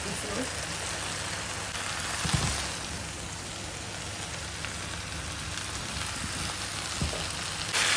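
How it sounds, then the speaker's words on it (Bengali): Eggplant and potatoes fry with dried fish in a pan, giving a steady, soft sizzle like light rain that continues throughout with occasional faint clatters. "এই যে এটা এখন আস্তে আস্তে ভাজা ভাজা হয়ে যাবে"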